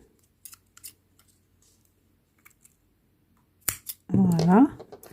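Scissors snipping excess sewing thread, a few tiny quiet clicks spaced apart in near silence, followed by a short spoken phrase at the end.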